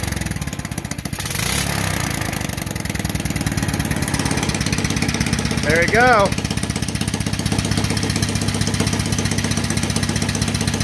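A small 5 HP Kawasaki FA210D engine on a trike project, fed from a gas tank, turns over and settles into a steady, loud, close idle, chugging continuously beneath a man's brief remark.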